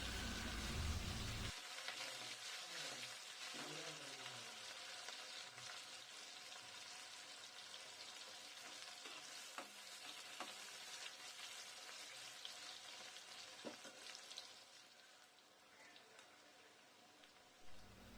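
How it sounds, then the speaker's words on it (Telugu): Green chillies and capsicum frying in spices in a pan, a steady close sizzle that continues throughout with occasional stirring clicks and no talking. "2 పచ్చిమిర్చి, 2 టేబుల్ స్పూన్ల క్యాప్సికమ్ వేసుకొని బాగా పచ్చి వాసన వెళ్ళేదాకా ఫ్రై"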